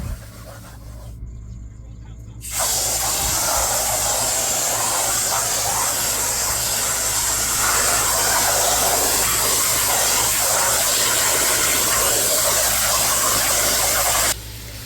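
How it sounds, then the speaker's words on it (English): A high-pressure garden hose sprays water to rinse out the layers of a dirty filter, a steady loud hissing rush that starts abruptly after a brief quiet moment and runs continuously until it cuts off. "I rinsed it all out with the high pressure with my hose"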